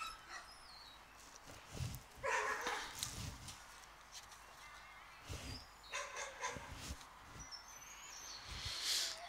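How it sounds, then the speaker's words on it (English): Several of a pack of twelve dogs bark excitedly ahead of feeding, with repeated sharp barks and yelps, some near and some farther off, alongside scattered bird chirps. "they're getting all excited and running around and barking at us"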